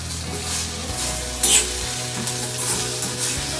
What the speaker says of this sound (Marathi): फक्त कोथिंबीर आणि जिरे मोरे टाकून फोडणी द्यायची